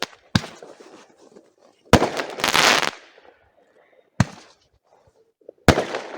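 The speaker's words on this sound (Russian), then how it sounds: "как красиво стреляет салют ваш" Outdoor New Year fireworks salute: four sharp, loud bursts spaced a second or two apart, one followed by a crackling sparkle trail, with faint voices between the shots.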